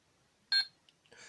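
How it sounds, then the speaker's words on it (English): A short, bright electronic beep from a Power Rangers Time Force Chrono Morpher toy sounds once, followed by a couple of quieter chirps and a soft tone, with no talking. "It will keep on beeping."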